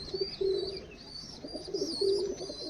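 A female pigeon coos nearby, soft low throaty calls repeated in a short rhythmic series against a faint background hiss.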